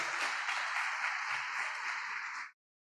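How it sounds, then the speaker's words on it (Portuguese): Applause from a church congregation during a family service, a dense, even wash of many hands clapping at a distance, steady for about two and a half seconds before cutting off abruptly. "Você pode dar um aplauso bem forte ao nosso Deus pela palavra dele?"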